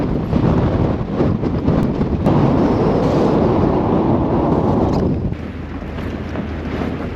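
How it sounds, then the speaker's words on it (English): Strong wind roars across the microphone in heavy buffeting gusts, easing somewhat near the end, with no voices. "The gusts are getting more and more frequent."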